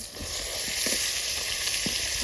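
Chicken frying in a pan at a campsite makes a loud, steady sizzle throughout, with a few soft knocks of stirring near the pan.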